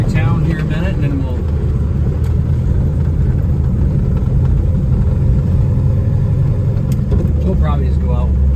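A 1972 Plymouth Road Runner GTX replica drives through town with a continuous deep engine rumble heard from inside the car while someone talks over it.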